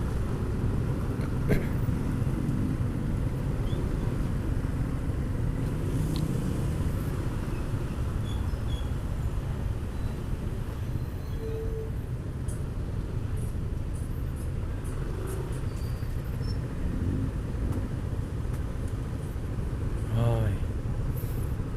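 Continuous low road rumble from a traffic jam with buses, heard from a Yamaha Nmax 155 scooter, with passing engine swells, a few faint horn-like tones and someone talking over much of it.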